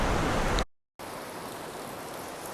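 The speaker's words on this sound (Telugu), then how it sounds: "సో వర్షం అయితే చాలా బీభత్సంగా పడుతుంది" Heavy rain pouring down outdoors, a dense continuous hiss close by that cuts out for a moment and then resumes at the same steady strength.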